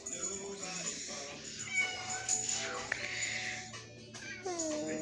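A cat at a humane society shelter meows repeatedly, close and fairly loud, with drawn-out rising and falling cries over a quiet room. A person talks softly in between.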